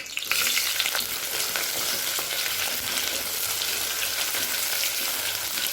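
Sliced onion, with cinnamon, clove, cardamom and curry leaves, frying in hot oil in a kadai, a loud, steady sizzle that carries on throughout with no voices.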